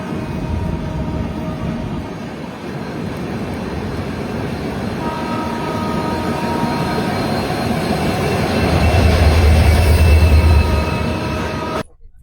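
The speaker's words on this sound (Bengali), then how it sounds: "ট্রেনের সিগন্যাল হয়ে গেছে, হর্নও দিয়ে দিয়েছে, ছাড়বে এবার" A train departing Durgapur station rumbles steadily close by, its noise slowly building as it gets moving, with a low horn-like drone near the end before it cuts off.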